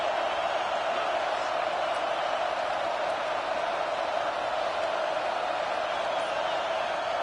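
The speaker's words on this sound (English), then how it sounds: "Decibels rising as the crowd gets behind this defense on third down" A football stadium crowd roars through a third-down play in an LSU versus Auburn game, a dense, steady wall of cheering that swells and holds from far off.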